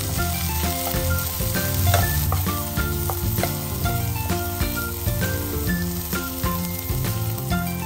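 Garlic and onion sautéing in a pan for a chicken wings dish, a steady loud sizzle and crackle running throughout with frequent sharp clinks and scrapes of stirring, no voices.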